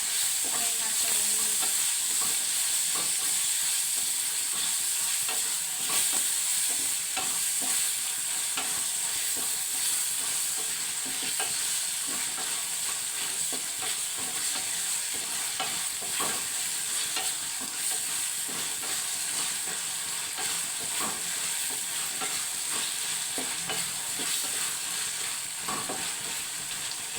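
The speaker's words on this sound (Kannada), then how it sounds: "ಟೊಮಾಟೊ ಹಾಕಿ ಫ್ರೈ ಮಾಡ್ಕೊಳ್ಳಿ." Tomatoes fry in a pan for carrot palya, a soft, steady sizzle running throughout with faint scraping and stirring knocks from a spoon at irregular intervals.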